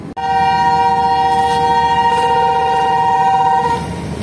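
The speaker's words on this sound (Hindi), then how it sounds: "तो AG 30 ने अपना डिपार्टिंग व्हिसल दे दिया है" Loud, steady train horn from the AG 30 locomotive departing with the Shah Hussain Express from a railway station in Pakistan, a sustained chord-like blast lasting several seconds before cutting off, with no talking.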